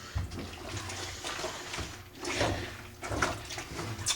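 Dyed jeans being washed by hand in warm soapy water in a bucket, with sloshing and splashing surges of water that swell and ease in uneven bursts, close up, no talking.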